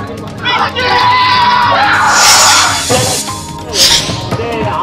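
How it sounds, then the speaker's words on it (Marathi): Large crowd of onlookers at a bullock cart race, a continuous loud roar of shouting and cheering voices with sharp bursts and whoops rising throughout, close and dense. "यावेळी शर्यत पाहण्यासाठी नागरिकांनी मोठी गर्दी केली"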